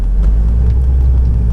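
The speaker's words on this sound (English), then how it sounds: "Speaking of, there goes a C5 right there." A Chevrolet Corvette C5 passes on the road, a loud, steady low engine rumble filling the whole moment with no voices over it.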